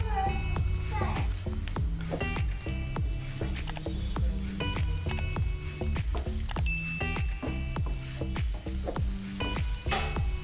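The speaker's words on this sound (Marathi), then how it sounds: "हिरवी मिरची उभा चिरलेला कांदा हे सर्व भाजून घेऊया" Green chillies, ginger and sliced onion fry in a pan with a constant busy sizzle and frequent stirring clatter of a spatula, loud and close, continuing without pause.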